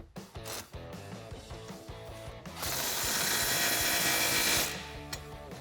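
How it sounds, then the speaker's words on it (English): A 15 mm socket tightens the exhaust pipe clamp on a Jeep Wrangler JL 2.0L with a Magnaflow Street Series cat-back system, first a run of rapid close ratcheting clicks and then a sustained buzzing power-tool whir. "Then we can tighten up our clamp, making sure that it's sitting over both of the pipes with a 15mm socket."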